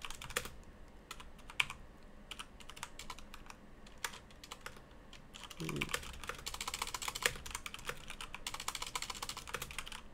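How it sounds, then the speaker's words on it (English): Rapid clicking keystrokes on a mechanical keyboard, a steady, close, irregular patter that grows busier toward the end, with a brief low murmur partway through. "You get to hear my clickety-clack of my mechanical keyboard."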